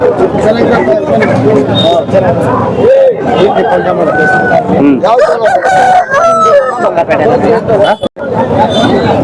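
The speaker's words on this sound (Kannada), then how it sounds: "ಇದು ಸ್ವಲ್ಪ ದೊಡ್ಡ ಹುಂಜ." Roosters crow repeatedly amid a noisy crowd at a hen market selling aseel roosters, with people talking and chattering loudly throughout.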